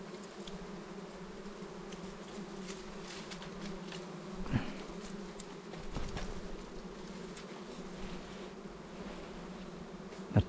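A swarm of dwarf honey bees buzzes steadily around their mountain nest, a low, even drone holding throughout with occasional brief louder passes close by and faint scattered clicks, no talking.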